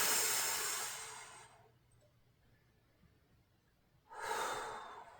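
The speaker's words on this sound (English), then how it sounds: "Nice deep breaths." Deep, slow breathing during a golf flexibility stretch: a long breathy exhale fades into quiet, then a fresh strong breath rises after a pause, close and clear with no talking.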